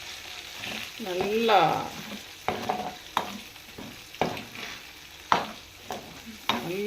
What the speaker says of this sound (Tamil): இந்த இறாலை பொரித்து, நம்ம இறால் பொரிப்போம்ல அப்படி நல்லா பொரித்து எடுத்துடணும் இந்த இறால்.